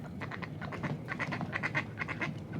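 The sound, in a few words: ducks quacking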